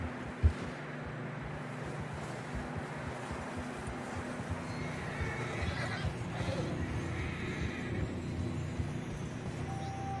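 Horses neigh and whinny in Red Dead Redemption 2 amid muffled hoof clatter through fresh snow and a rumbling background, moderately loud and continuous.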